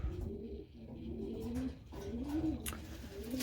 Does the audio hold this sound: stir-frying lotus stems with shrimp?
no